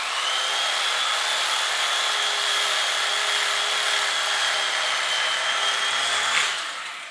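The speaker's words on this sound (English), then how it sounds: "It's my nifty little saw here. It's pretty, comes in pretty handy for cutting prime rib." A small electric saw cuts through smoked prime rib with a steady, high buzzing whine held for about six seconds, close and fairly loud, then winding down at the end.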